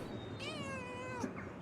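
A cat meows in the video game Pentiment, one drawn-out, wavering call followed by a short second mew, clear and close over a steady low background hum.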